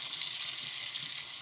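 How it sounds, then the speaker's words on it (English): Kashmiri chili powder sizzles in hot ghee, a steady, close crackling hiss that stays even throughout and is heard alone without speech. "into the hot ghee, we're going to add 1 teaspoon of Kashmiri chili powder. Just going to give that a stir."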